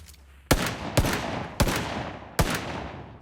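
Four sharp, loud gunshots ring out at irregular intervals in the video game PUBG Mobile during long-range firing, each with a short, echoing decay.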